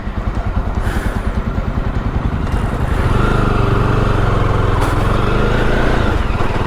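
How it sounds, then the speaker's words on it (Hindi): A Jawa 42 Bobber motorcycle starts with its self-starter while left in first gear, its engine chugging in a loud close, uneven rhythm that jerks and rises into a steadier, harder idle midway, with faint clatter on top. "ये फर्स्ट गियर पे अभी, ठीक है, फर्स्ट गियर पे है और मैं सेल्फ देता हूँ"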